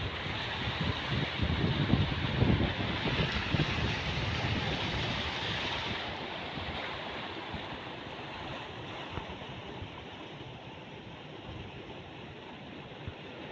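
The Tansa river rushes in early monsoon near a small old bridge, a steady broad roar of flowing water that starts louder and eases slightly, with no voices.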